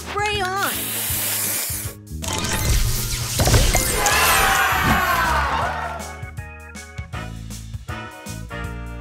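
A spray booster fires in the mobile puzzle game Match Masters, with a loud hissing, splashing burst and crashing tile effects, over layered musical chimes and an announcer voice.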